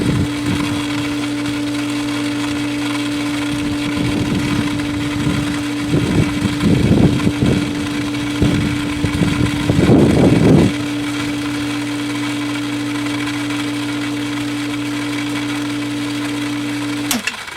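A pool pump runs steadily while the filter is backwashed, a constant humming drone with a low tonal whine, joined midway by a stretch of irregular rattling and splashing bursts before settling back to the plain hum.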